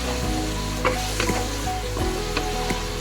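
Loud continuous sizzling of crab frying with oyster sauce in a wok, with intermittent scraping and clanking as it is stirred.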